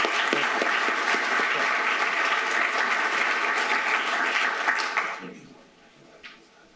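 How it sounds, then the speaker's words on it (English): Audience applause at the welcome session of a transatlantic symposium on EU security and defense, a dense, steady clapping from a large room that holds for about five seconds and then dies away to scattered claps. "I just suggest a round of applause"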